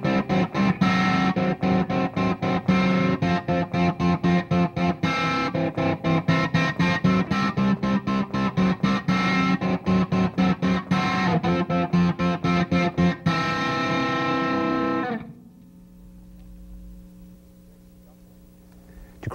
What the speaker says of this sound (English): we're going to take these inverted intervals and use them in example 26 with a finger-picking approach